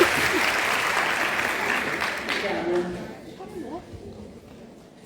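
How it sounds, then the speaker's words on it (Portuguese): Loud applause from a crowd welcoming a speaker fills the opening seconds, then fades out, leaving scattered claps and a room murmur. "Com uma salva de palmas, vamos receber"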